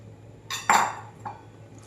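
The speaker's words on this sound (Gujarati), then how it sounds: "હવે એમાં ક્રેનબેરી અને એ બધું જે આપણે પલાળીને રાખ્યું હતું, કાળી દ્રાક્ષ, લાલ દ્રાક્ષ, એ બધું આમાં મિક્સ કરી દઈશું." Soaked cranberries and black and red raisins being stirred into eggless Christmas fruit cake batter, heard as a few soft clinks and scrapes of a utensil against a bowl, brief and close.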